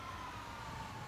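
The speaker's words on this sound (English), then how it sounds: "So many sirens." Police and fire engine sirens wailing together in the GTA Online game, a steady continuous siren tone that fills the whole short stretch at moderate loudness with no pauses.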